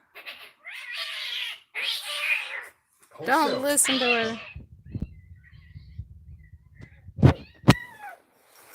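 A cat yowls and meows in long, wavering cries, several in a row, with people talking nearby and a few soft thumps afterward.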